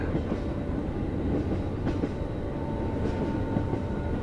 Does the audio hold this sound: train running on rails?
yes